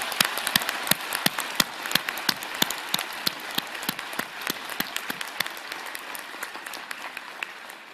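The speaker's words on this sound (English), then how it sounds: "Everyone, please join me in a round of applause to recognize our graduates" Audience applause for graduates at a University of Toronto graduation ceremony, a steady wash of many clapping hands with sharp individual claps standing out, moderately loud and continuous throughout.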